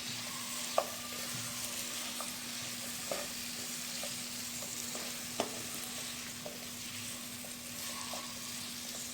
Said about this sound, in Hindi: अब हम इसके अंदर लौकी डाल देंगे और हम इसको अच्छे तरीके से मिक्स कर लेंगे।